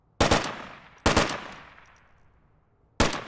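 A 7.62 rifle in a video game fires semi-automatically: three loud, separate shots, each with a sharp crack and a fading tail, the last arriving after a longer pause.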